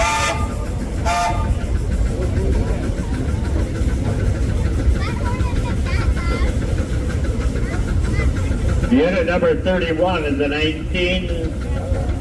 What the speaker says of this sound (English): 1916 Avery steam traction engine.